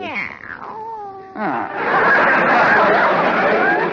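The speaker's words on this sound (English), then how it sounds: "Oh, it's the cat." A cat meows several times at close range indoors, with rising and falling cries at the start, followed by loud audience laughter and chatter over a radio comedy scene.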